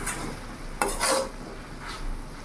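Small chuno fish frying in a pan are turned with a utensil, giving a soft sizzle broken by a couple of brief scraping stirs, fairly quiet and without speech.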